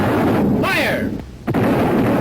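Artillery guns firing in a Canadian wartime propaganda film, a loud booming blast with a rolling roar, a brief dip, then another heavy report, with a shouted voice mixed in.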